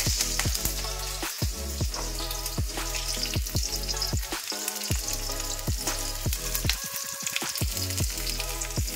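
Chopped green chilli, ginger and garlic with five-spice seeds hit hot oil in a wok, a loud continuous sizzle close by, broken by a quick run of regular crackles and stirring clicks.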